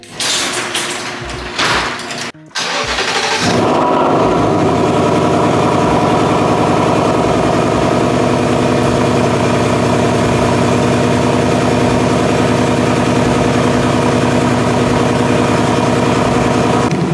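A Ford Mustang engine idles steadily while warming up after a brief start-up surge, a loud, even rumble close by that holds constant to the end with no talk.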